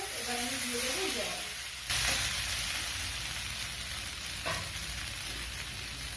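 Spice paste frying for a cucumber and small-prawn curry gives a dense, steady sizzling hiss with a couple of sharper bursts. A faint voice briefly sounds near the start.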